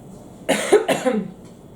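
Two quick coughs from a tickly throat, close together, fairly loud and near, with no talking around them.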